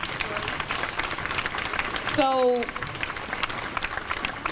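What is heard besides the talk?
crowd clapping and applauding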